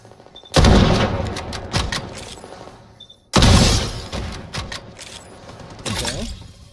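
Gunfire in the shooter game Strinova: two loud bursts of rapid shots, each starting sharply and then trailing off, followed by a smaller third burst near the end.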